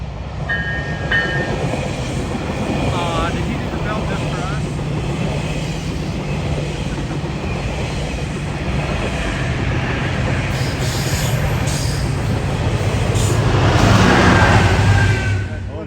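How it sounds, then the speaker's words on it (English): A train rolls past trackside near Toronto on a freezing day, a loud continuous rumble of wheels and cars with some clatter and a brief high squeal near the end. "Bernard sent us out on some rail fanning around the Toronto area in the freezing cold"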